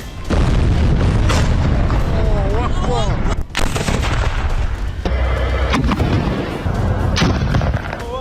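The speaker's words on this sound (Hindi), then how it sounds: "बंकर से सेना पर मोटार हमले हो रहे हैं" Loud booming mortar blasts go off several times in wartime Gaza, sharp heavy impacts one after another, with shouting voices in between.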